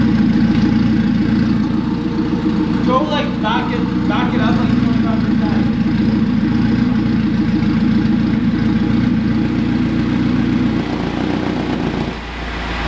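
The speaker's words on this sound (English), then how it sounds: "It just sounds like a tractor no matter what when that's open." A Honda Civic with a K20 engine and valved exhaust idles with a steady, deep, rumbling drone close by, while a person talks briefly over it.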